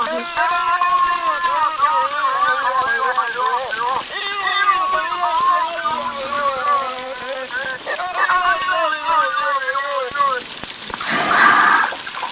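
Beluga whale mimicking human speech, a run of warbling, voice-like chirps and syllable-like bursts over a bright watery hiss, loud and continuous, ending with a brief splashy gush.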